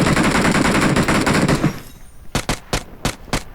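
Gunfire in the mobile game PUBG Mobile: a dense, loud automatic burst rattles for over a second, then a pause, followed by about five sharp separate shots in quick rhythm.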